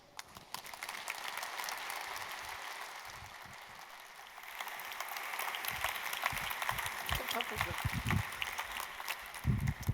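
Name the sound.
audience applause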